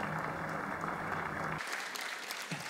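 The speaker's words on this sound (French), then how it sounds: "Alors, un applaudissement pour notre saint pape." An audience at a Catholic youth festival catechesis applauds for Pope John Paul II, a dense round of clapping that cuts off abruptly partway through and leaves scattered faint sounds after it.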